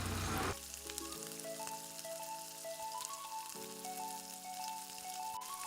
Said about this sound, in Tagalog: Next, igisa na po natin ang ating laman ng baboy.